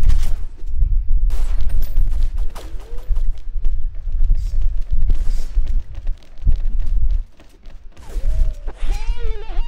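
Rapid gunfire rattles through a tournament match of the video game XSHOT, dense bursts and booms packed together, loud and continuous with brief lulls.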